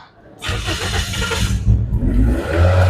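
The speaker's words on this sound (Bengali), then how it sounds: "চলুন গাড়িটার সাউন্ডটা এক নজরে শুনে আসি" A used Toyota X Fielder engine starts and runs, a loud close mid-pitched idle with brief revving surges, heard alone without talk.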